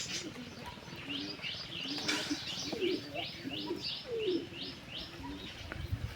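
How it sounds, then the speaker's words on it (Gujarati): Pigeons in a home loft coo steadily in repeated low calls, with higher chirps and tweets mixed in, close and moderately loud against a faint outdoor background. "અહીંયા છે મારા કબૂતર,"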